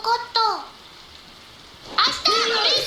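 Soft, steady rain hisses in an anime episode of Fruits Basket, heard faintly in the background between and beneath bursts of people talking.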